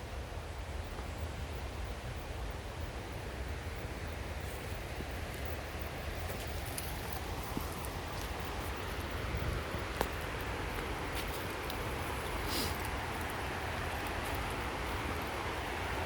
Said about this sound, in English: you can just see the rapids down there. The white stuff. That is the beautiful rapids.